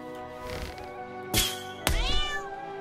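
A cat in the video game South Park: The Stick of Truth lets out a few loud, strained meows and a yowling caterwaul, sharp and close, over game background sound.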